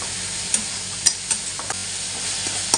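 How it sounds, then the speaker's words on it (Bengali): Carrot halwa stirred in a pan, a steady soft sizzle under a handful of sharp scraping clicks from the spoon against the metal, spaced irregularly, close and fairly quiet. "যত সময় না গাজরের গন্ধটা যাচ্ছে তত সময় এটাকে আমি নাড়বো"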